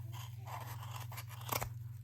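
Scissors snip through yarn for a crochet baby hat, one short, crisp cut close by over a quiet steady hum.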